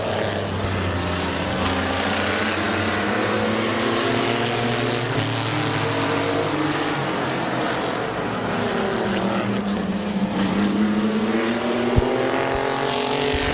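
Race cars roaring around Midvale Speedway on lap one, a sustained loud engine drone with rising and falling pitch sweeps as cars pass, steady throughout with no talk.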